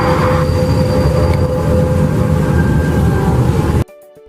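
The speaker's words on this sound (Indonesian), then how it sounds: "Contohnya, yang pertama, pencemaran suara pada LRT." Loud, continuous rumble of a light rail (LRT) train passing close by, with a steady metallic whine, cutting off abruptly near the end.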